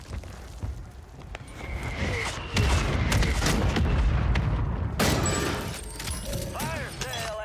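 Mortar explosions in a multiplayer shooter video game, a series of heavy booming blasts with rumbling, crackling tails, the loudest burst in the middle and another sharp hit later, mixed with game effects.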